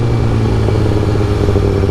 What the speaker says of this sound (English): I got a M4 exhaust. That's why my bike's so loud